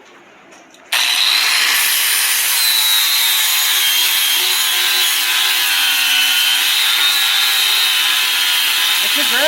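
Harsh, loud grinding as a power grinder cuts back a weld buildup on a hydraulic pump mount, starting abruptly after a quiet second and holding a steady abrasive roar close up.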